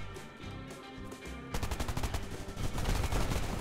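Rapid split-shot gunfire from the video game Blamdown: Udder Fury crackles in a fast, steady stream. After a quieter opening it turns loud and dense, rattling on without a break to the end.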